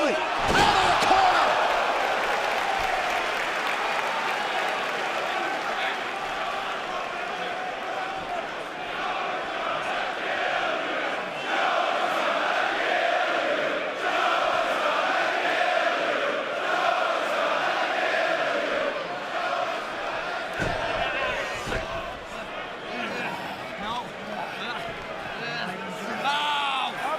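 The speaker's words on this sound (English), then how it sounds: "You heard the crowd, what they think's gonna happen" A large wrestling arena crowd at an NXT TakeOver event in Dallas roars, cheers and chants throughout, a dense sustained wall of voices with rising and falling swells and a few sharp impacts, while commentators talk over it.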